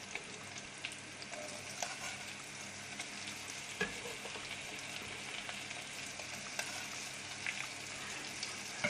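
Shallots sizzling in a little olive oil in a pan, a steady close crackle and hiss that runs throughout, with occasional clicks and scrapes from stirring.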